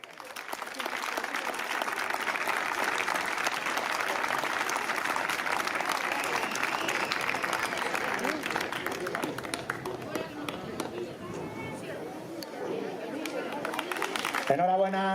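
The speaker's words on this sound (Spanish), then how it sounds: "Enhorabuena, un aplauso." Sustained audience applause at a sports gala in Jarandilla de la Vera, a dense wash of clapping from a large crowd that holds steady for most of the stretch, then thins as a voice cuts in near the end.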